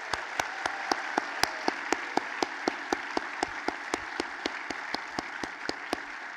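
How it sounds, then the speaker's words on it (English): Audience applause at the close of an annual meetings awards ceremony, honoring the awardees: steady, dense clapping from a large crowd with sharp individual claps standing out at a regular pace throughout. "one final round of applause for all the awardees for tonight."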